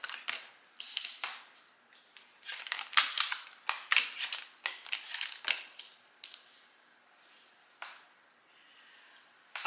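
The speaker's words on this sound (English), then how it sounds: "So let's lay the cards out." Tarot cards laid out one by one on a table: crisp slaps, snaps and rustles of card stock at close range, coming in irregular flurries with short pauses between them.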